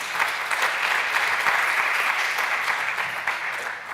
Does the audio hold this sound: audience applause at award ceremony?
yes